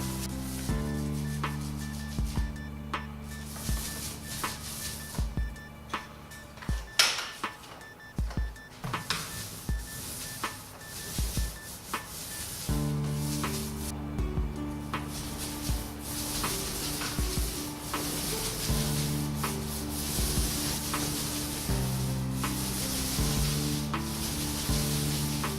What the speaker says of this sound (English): Pretty much always want to start your roller going upwards.